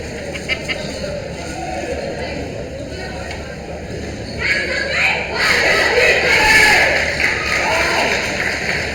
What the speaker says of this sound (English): And the Tigers cheer goes up on their end.